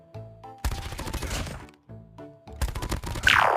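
Rapid bursts of automatic fire from the switchable X9 SMG in Call of Duty Mobile, two dense volleys separated by brief pauses, loud and close with sharp cracking reports.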